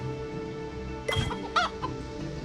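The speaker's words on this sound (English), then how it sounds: "Chickens." Chickens cluck in the Family Farm Adventure mobile farming game, a few short clucks and squawks rising out of a steady background hum, fairly close.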